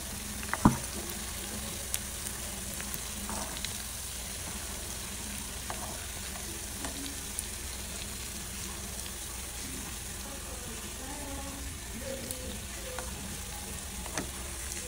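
Steady low sizzle of food frying in a pan at home, a continuous soft crackle with occasional faint clinks of utensils, fairly quiet and without talk.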